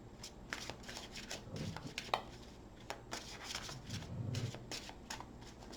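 Cards being riffled and shuffled in short bursts, soft and close, with brief pauses between shuffles and a faint hum in the background.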